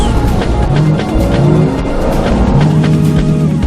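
Gas-powered car from an Innocent Vehicles advertisement about African roads, driving with a loud, steady engine roar, rising tonal whine and tire squeal throughout, close and continuous, with no talking.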